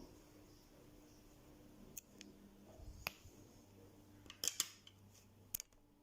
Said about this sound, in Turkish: Şuraya ipimi kesiyorum.